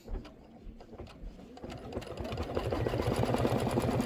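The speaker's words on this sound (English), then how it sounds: "So it is stitching the watermelon basting stitch and the chenille lines." Embroidery machine sewing a watermelon basting stitch and chenille lines on a hot pad, a fast rhythmic mechanical whir of needle strokes that starts softly and builds to a steady, louder hum.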